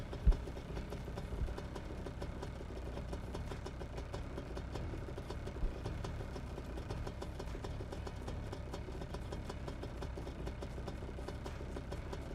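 Car engine in a VR sim racing game, a rough, unpleasant-sounding motor holding a steady low drone with faint vibration throughout, fairly quiet and with no voices.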